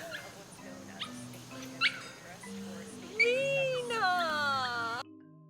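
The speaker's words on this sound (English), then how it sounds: "until I get interrupted by my favorite neighborhood dog" A neighborhood dog barks and yips, short sharp calls at first, then longer whining, rising and falling whimpers, heard close and fairly loud against quiet background tones.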